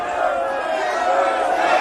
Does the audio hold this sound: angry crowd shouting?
yes